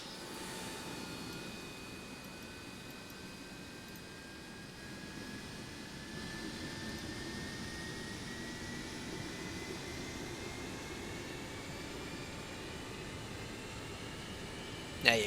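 In a flight simulator, a Boeing 727 freighter's jet engine spools up at start, a steady whine rising gradually in pitch over a broad even roar, with no talk.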